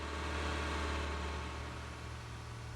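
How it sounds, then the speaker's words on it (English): A truck engine idles in American Truck Simulator, a steady low rumble with constant drone and hiss holding evenly throughout, with no talk over it. "they're going to have to come up with new engine audio"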